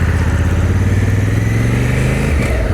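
Honda Africa Twin motorcycle engine running steadily while riding, a loud continuous low throb with a slight pitch dip near the end, no talk over it.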